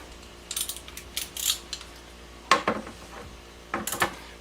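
Metallic clicks and ratcheting bursts from a wrench tightening a 14 mm bolt during a solar power system installation, in several short sharp bursts with quiet gaps between them.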